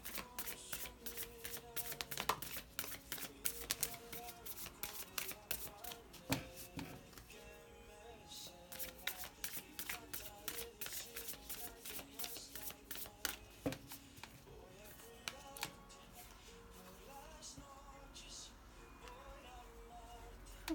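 A deck of tarot cards is shuffled again and again in dense, crisp riffling bursts. The sound is close and steady throughout, with a brief pause partway through.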